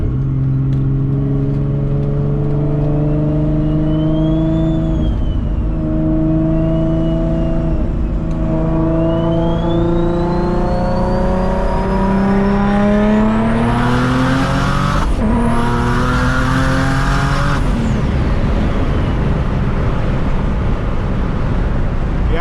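A 600 WHP car accelerating hard on new Nitto NT05 rear tires, engine roaring loudly up through rising revs with gear changes, then a sharp high-pitched surge near the end before it backs off.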